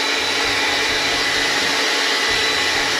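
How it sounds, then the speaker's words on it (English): A blow dryer pointed downward over a beard, blowing a loud, close, steady airy whoosh with a constant motor hum throughout, with no talking. "Take your blow dryer, point it down, and go down with your beard."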